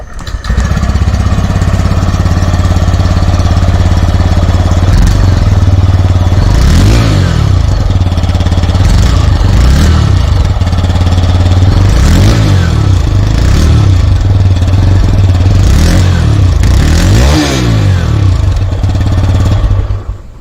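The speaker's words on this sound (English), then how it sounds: "this is the throatiest, bassiest exhaust in the segment" A TVS Raider 125 motorcycle engine idles with a deep, throaty exhaust, blipped into several sharp revs that rise and fall at intervals, loud and close.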